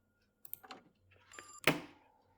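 In a horror gas station video game, a door is pushed shut: a few soft clicks and creaks build to one sharp, close thud that rings briefly and fades into quiet.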